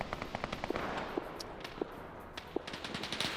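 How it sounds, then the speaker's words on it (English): Battle din from a WW2 online multiplayer match as rifle grenades go in, with rapid crackling pops and several sharper blasts over a rumbling background, fairly distant. "Rifle grenades now going in."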